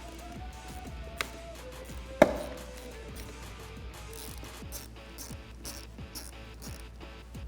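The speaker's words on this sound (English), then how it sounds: "I'm taking a 10mm socket and just removing one of those nuts there." A ratchet turning a 10mm socket to remove a nut from an accessory battery terminal on a Jeep Wrangler JK, giving quick repeated clicking strokes up close with one sharp metallic clack partway through.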